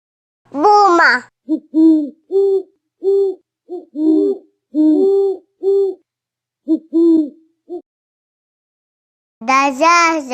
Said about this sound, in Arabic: بومة.